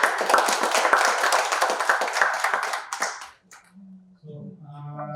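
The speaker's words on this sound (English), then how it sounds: "With a big round of applause." An audience at an online session on QuantumATK software claps for the speaker: about three seconds of brisk, dense clapping that stops abruptly, followed by a quiet gap and then a person speaking.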